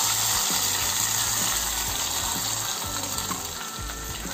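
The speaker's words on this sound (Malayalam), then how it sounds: "നമ്മുടെ ദാൽ കറിയിലേക്ക് ഇത് ഒഴിച്ച് കൊടുക്കാം." Hot tempering is poured into dal curry with the flame switched off, giving a loud, close, continuous crackling sizzle that fades slightly as it settles.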